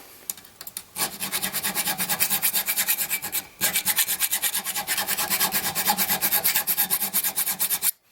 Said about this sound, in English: you can use files to do it if you don't have these power tools